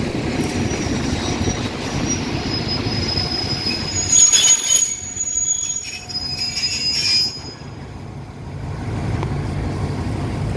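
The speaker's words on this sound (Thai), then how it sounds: "ขบวนนี้นะครับก็ขวัญใจนักท่องเที่ยวชาวต่างชาตินะนะไปเที่ยวกาญจนบุรี" Ordinary passenger train bound for Kanchanaburi passing a small railway halt, hauled by an Alsthom diesel locomotive, loud and close with rumbling wheels and sharp wheel squeals that fade toward the end.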